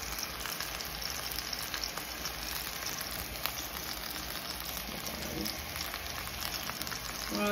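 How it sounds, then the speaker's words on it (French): Salmon cooking gently in a pan gives a steady, moderate sizzle and fine crackle that holds evenly throughout, without any voices. "on passe à la cuisson de notre saumon"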